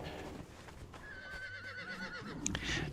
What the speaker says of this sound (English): so the horse is following me around